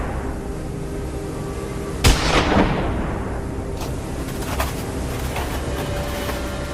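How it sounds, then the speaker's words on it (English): A single sharp rifle shot cracks out during a wild boar hunt in a gray winter forest, a sudden loud report that decays into a short rumbling tail over faint outdoor ambience. "The gunshot rang out sharply"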